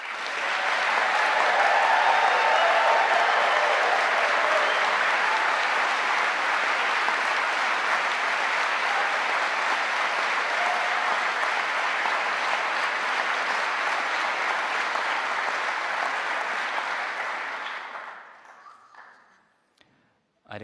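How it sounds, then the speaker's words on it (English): Graduates at a Liverpool University School of the Arts graduation ceremony give a long, dense round of applause, loud and sustained for many seconds before tapering away into near silence. "give yourselves one more round of applause"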